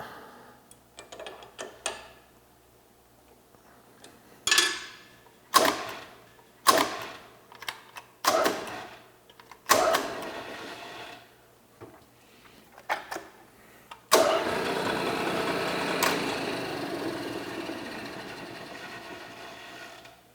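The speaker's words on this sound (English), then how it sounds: "I have this tapped with the drill press" A drill press tapping a hole, running in short stop-start bursts of whirring and clicking with pauses between, then a longer continuous spin near the end, close and fairly loud.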